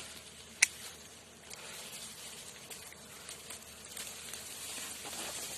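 Dwarf honeybees around their nest make a faint, continuous buzzing hum that swells slightly toward the end, with one sharp tap near the start and quiet outdoor background.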